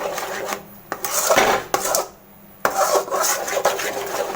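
A spoon scraping and stirring Ashoka halwa in a pan over low flame, with repeated rasping strokes in uneven bursts separated by short pauses, close and fairly loud.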